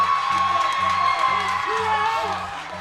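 A baseball crowd cheers and screams continuously, with whoops and shouts in the mix over a steady low thumping beat.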